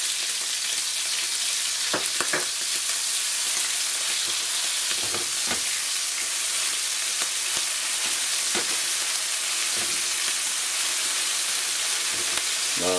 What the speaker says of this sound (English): so I'm going to put in the ginger garlic paste